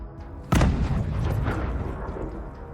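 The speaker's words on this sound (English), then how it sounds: "The explosion left no chance for the driver inside to survive, and the APC was destroyed." An armored personnel carrier sets off an anti-tank mine in a war setting: one sudden heavy blast, then a long rumbling decay that fades over about two seconds.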